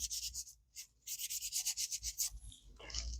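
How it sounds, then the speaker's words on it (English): Paint brush scrubbed back and forth on paper while making junk journal pages, a series of close, dry rhythmic rubbing strokes with brief pauses between bursts. "It's a good way to get the paint out of your brush too. Just scrub it."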